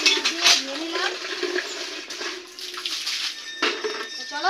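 Water splashes and pours over a person's head while hair is washed, giving a close, continuous gush with bursts of splashing and no voices.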